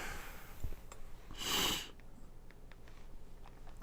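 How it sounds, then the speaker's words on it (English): A single sharp nasal sniffle, close and fairly loud, stands out against a quiet room with faint background noise. "we got sniffles today"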